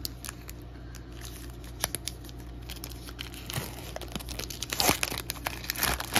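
Scissors snipping open the tops of NBA Trick or Treat trading card packs, close sharp cuts and crinkling foil wrapper, scattered clicks building toward the end.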